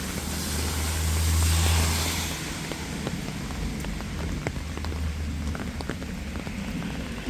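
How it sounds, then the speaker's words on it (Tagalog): Steady rain pours down, a dense, continuous patter of drops hitting surfaces, with a low rumble underneath that swells briefly early on. "Maulan na umaga guys"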